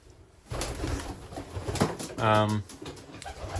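Pigeons coo softly in a breeding loft, one clear throaty coo standing out midway, while a person talks over the low bird murmurs.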